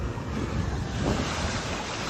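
Ocean waves and wind at sea, a continuous loud rushing wash of surf with buffeting wind across the microphone, steady and unbroken throughout.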